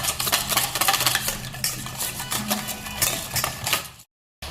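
A spoon is stirred briskly through a batter of pearl millet and gram flour, giving rapid scraping and clicking strokes against the bowl in a busy, close rhythm before an abrupt cut.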